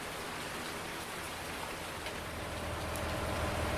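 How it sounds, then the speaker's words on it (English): Rain keeps falling near midnight in the countryside, a soft, even wash of patter that stays constant and fairly faint throughout, without any voices. "it's nearly midnight, and it's still raining"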